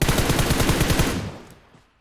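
Rapid automatic gunfire from an M249 in PUBG Mobile, a loud, fast burst of evenly spaced shots lasting about a second before trailing off into fading echo.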